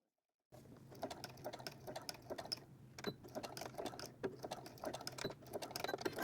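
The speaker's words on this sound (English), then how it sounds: "you're gonna sew from the top to your notch, back stitching at the beginning and the end at the machine" A sewing machine stitches a garment seam from the top down to a notch with back stitching, a close, steady rapid mechanical patter of needle strokes running throughout.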